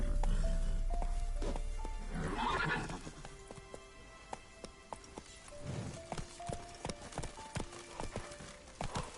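Horse hooves clip-clopping at a gallop through The Witcher 3 open world, with whinnies and neighs breaking in over a rhythmic, fairly close beat; a brief whooshing swell passes midway, and no voices are heard.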